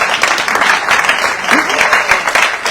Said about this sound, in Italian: facciamogli un applauso di incoraggiamento